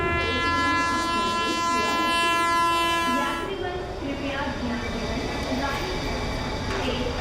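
Train scene in an Indian crime drama, with a sustained horn-like tonal blast over rumbling rail noise for the first half, then continuing rolling clatter as people talk over it.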